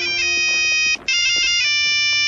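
A mobile phone ringtone plays a bright electronic Beethoven melody in an animated Simpsons scene, loud and close, with a brief dropout near the middle before the tune resumes.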